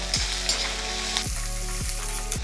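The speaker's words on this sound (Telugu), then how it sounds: "ఇది మంచిగా ఫ్రై చేస్తున్నాను." Onions sizzle steadily as they fry in a pan for egg poratu, a continuous close crackle with a few brief scraping stirs and no talking.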